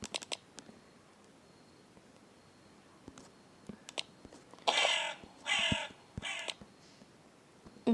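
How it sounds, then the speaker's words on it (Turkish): A crow cawing outdoors, a few loud harsh calls in a cluster near the middle and end, set against quiet background with scattered small taps and clicks. "Karga da güzel ötüyor."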